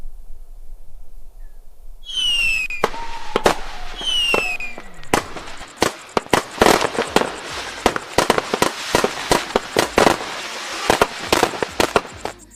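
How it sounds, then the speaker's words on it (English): Fireworks at a party in a hillside neighbourhood: whistling rockets rise, then a rapid, irregular barrage of sharp bangs and crackles, loud and fairly near, continuing throughout. "the fireworks were probably from some fancy party in Ashbury Hills"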